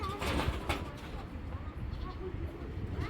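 An old-line khaki pigeon coos in low, murmuring rumbles mixed with other birds and general background noise, while a person talks over them.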